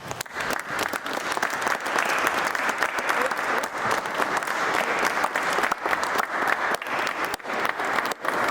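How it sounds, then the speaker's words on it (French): Guests at a baptism in Rouen applaud for Jade, a steady, dense round of clapping filling the room at fairly close range for the whole stretch, with faint voices mixed in. "tout le monde va pouvoir applaudir Jade"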